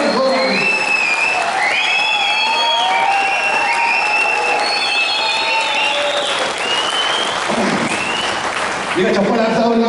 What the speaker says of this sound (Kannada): ಈಗ ಚಪ್ಪಾಳೆ ಹಾಕ್ತಾನೆ